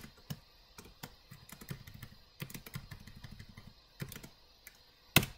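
Quiet, close typing on a computer keyboard while text is edited, with irregular clusters of key taps and short pauses over a low background hum, ending in one sharper, louder keystroke.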